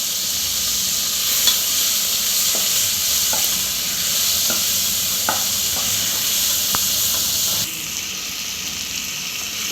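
Tomatoes and curry leaves sautéing in hot oil for sambar rice give a loud, steady hiss, with occasional soft ladle knocks, close up, easing slightly near the end.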